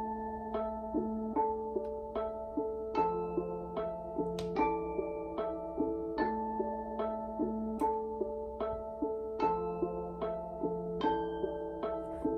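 A beat melody slowed to half speed with a Gross Beat plugin, a steady plucked synth pattern of repeating notes in an even rhythm, building like an intro, moderately quiet with no talking.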